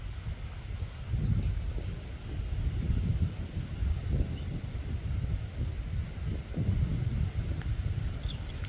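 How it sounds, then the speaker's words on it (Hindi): Strong wind by a river gusts and buffets a microphone in low, rumbling surges with no voices, steady and close throughout. "इतना तेज़ हवा चल रहा है"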